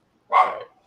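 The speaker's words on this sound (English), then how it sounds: "he's having a dog fight in his room" A single short dog bark, sharp and moderately close, alone against silence.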